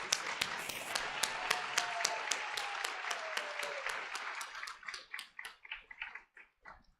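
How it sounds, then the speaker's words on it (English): A conference audience at the 2023 Wellness & Epilepsy Conference keynote gives a full round of applause that rings out steadily, then thins into a few scattered, distinct claps before dying away. "let's give B. Martin Lee one more round of applause"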